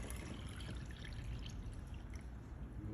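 Water poured from a vessel into a plastic measuring container marked 750, a soft, steady trickle and splash close by for a few seconds, quiet overall with no talking.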